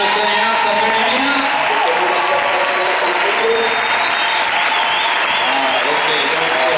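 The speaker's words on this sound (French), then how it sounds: "Nous acclamons le Seigneur, ça fait du bien." A church congregation applauds to acclaim the Lord, a dense sustained wash of clapping from many hands filling the room, steady throughout with voices mixed in among the crowd.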